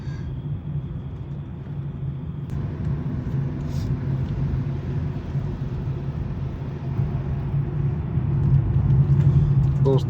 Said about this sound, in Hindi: कार के बस टायरों की आवाज़ आ रही है पत्तों में, और कुछ नहीं आ रही।